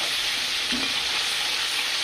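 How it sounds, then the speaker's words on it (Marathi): Ground onion, garlic, ginger, coriander, coconut and tomato masala fries in hot oil for an egg curry gravy, giving a steady, even sizzle with a faint stir partway through and no voices. "तेल तापलेलं होतं त्यामुळे मसाले चांगले फ्राय होत आहेत"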